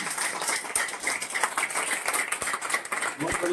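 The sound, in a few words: audience clapping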